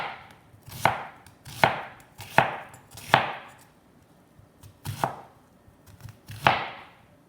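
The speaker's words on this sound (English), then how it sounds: "And then I just want to slice it thin." A knife slices a beef filet thin on a cutting board, giving about seven close, crisp cuts at a steady rhythm that loosens near the end, with no talking.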